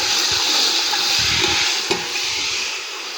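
Onions browning in hot oil for chicken pulao, a dense continuous sizzle heard up close with a single brief knock near the end.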